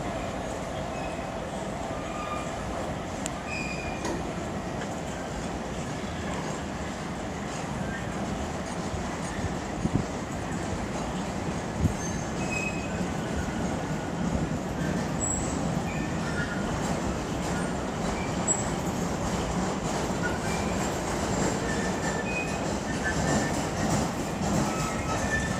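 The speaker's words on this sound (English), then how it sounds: "I thought this would be an empty car train for some reason." A car-carrier freight train, its wagons mostly empty apart from the front, rolls through Nuneaton station with a steady, close rumble and wheel rattle that holds for about twenty-five seconds without a break.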